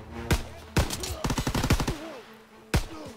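A few sharp, loud shots ring out in the World War II shooter Call of Duty: WWII, then a rapid burst of automatic fire, and a final single shot after a short pause.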